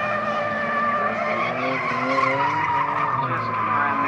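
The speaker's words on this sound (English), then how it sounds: "getting very close to holding a drift" Drift car tires skidding and squealing continuously through a drift run, loud and sustained with wavering pitch over a revving engine, with a commentator's voice faintly underneath.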